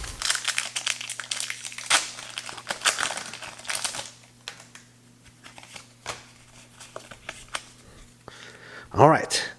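Crinkly foil tearing and rustling from a Pokémon TCG Ancient Origins booster pack being ripped open, close up, with scattered handling noises and a sharp crackle near the end.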